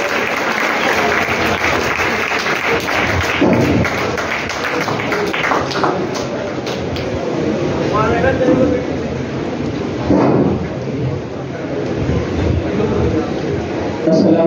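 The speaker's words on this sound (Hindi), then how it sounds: "सलाम तालियां बहुत कमजोर है, जोरदार तालियां का इस्तेमाल कीजिए।" Audience applause at a school farewell and prize distribution ceremony, a dense steady patter of many hands clapping across the whole stretch, with crowd noise mixed in.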